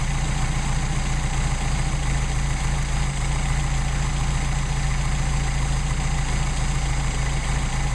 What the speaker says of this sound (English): I don't want it idling that high, so I'm going to back it off.